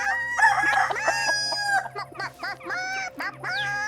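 Farmyard chickens cluck and a rooster crows repeatedly, close and loud, with several bright crowing calls stacked over a steady background of clucking.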